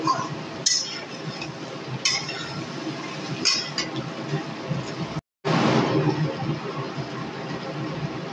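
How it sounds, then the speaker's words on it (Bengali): Raw mango pickle mixture stirred in a pot with Kashmiri chilli powder, giving scattered metallic clinks and scraping against a low background hum, with a brief dropout partway and a busier, louder stretch after. "ভালো করে নেড়ে চেড়ে নেব।"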